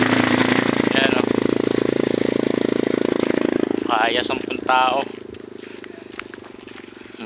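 A small ultralight aircraft with a motor fitted with wings drones loudly with a buzzing engine that gradually fades as it moves away, while a person talks briefly over it.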